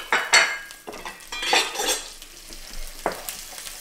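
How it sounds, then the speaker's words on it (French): Chopped onion softening in salted butter in a hot frying pan, with a soft sizzle and bursts of spatula scraping and stirring close by, and no talking. "On va faire fondre tranquillement l'oignon."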